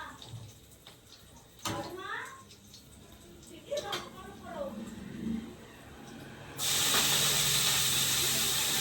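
Someone talks over quiet kitchen background, then leafy greens hit a hot frying pan and a loud, sustained hiss of sizzling takes over for the last couple of seconds.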